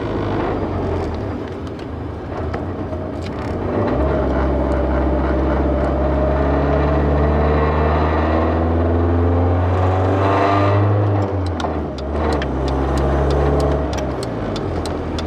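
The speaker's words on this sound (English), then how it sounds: "We have an extreme exhaust leak. Crazy bad exhaust leak. That's why it sounds like shit." A loud BMW E30 engine with a severe exhaust leak revs and drones continuously, its raspy, popping exhaust rising and falling in pitch as it accelerates, close by with no talking.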